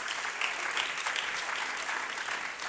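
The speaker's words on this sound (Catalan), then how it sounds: "Un aplaudiment allà" Steady applause from an audience at a talk, a soft, evenly spread clatter of many hands heard from some distance, with no gaps.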